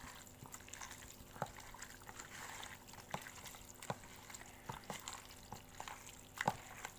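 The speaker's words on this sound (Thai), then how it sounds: "แล้วก็คลุกเคล้าให้เข้ากัน" Squid being tossed by hand with half a spoon of fish sauce and half a spoon of light soy sauce, giving quiet, wet squelching with scattered soft clicks close by.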